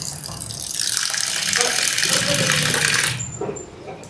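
Water gushes and splashes as it is poured over soaking food, a close, steady rushing pour that runs for about three seconds before tapering into a few faint trickles and clinks.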